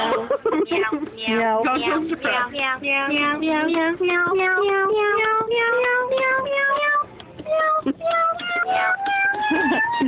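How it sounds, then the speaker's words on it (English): A cat keyboard plays electronic meow tones in a quick, steady run of short pitched notes that glide and climb, continuous and fairly loud, with a voice briefly mixed in. "amused by a cat keyboard"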